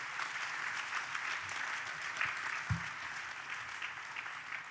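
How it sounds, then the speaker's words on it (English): Sustained audience applause at the opening session of a public lecture event, a dense, even wash of many hands clapping that holds steady for several seconds with a brief low thump partway through. "could you please again give an applause for that wonderfully generous and informative welcome to country."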